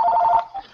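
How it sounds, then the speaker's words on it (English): A short electronic telephone ring sounds once, loud and close, a bright steady tone that cuts off and gives a brief second pulse. "Phone's for you, Lever."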